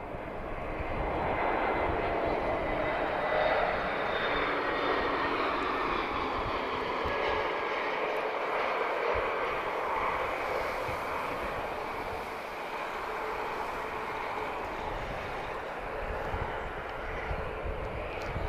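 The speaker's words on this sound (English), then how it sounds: "let's watch this A321neo" An Airbus A321neo jet airliner at Lisbon Airport roars steadily for a long stretch, a broad, constant engine rumble with a faint high whine, fairly distant and even.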